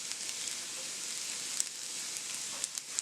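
Aromatics for a smoked salmon keto frittata sizzle steadily as they caramelize in a pan, a close, even hiss with a few small pops and crackles, no voices over it.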